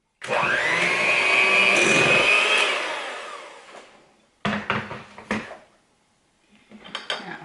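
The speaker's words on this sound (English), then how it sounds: "I am going to use the mixer and I'm going to mix the two until they're well blended together" An electric hand mixer whirs steadily for a few seconds while blending a pudding mixture in a bowl for a potluck dessert, then stops, followed by a few clinks and knocks of utensils against the bowl.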